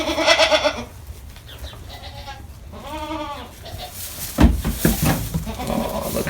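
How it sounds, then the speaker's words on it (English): Baby goats bleat in a spring farm pen, several short, wavering cries spaced across the moment, close and moderately loud among soft rustling. "More baby goats."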